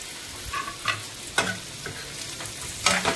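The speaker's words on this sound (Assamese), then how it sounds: "এতিয়া ভালদৰে লৰাই তেল মছলা সোমাবলৈ দিম" Lemon pickle with oil, turmeric, salt, cumin, coriander and Kashmiri chili being stirred, giving a few separate scraping strokes with a faint sizzle beneath, close and fairly quiet, with no voices.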